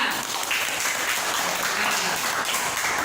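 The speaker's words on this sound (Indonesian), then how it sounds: "Iya, tepuk tangan." Schoolchildren in an elementary classroom break into loud, steady applause, a dense wash of many hands clapping together up close for the full few seconds.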